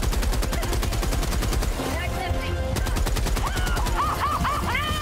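Rapid turret gunfire in Helldivers 2, a steady loud machine-gun stream with sharp repeated bursts over busy battle noise, while voices talk over it.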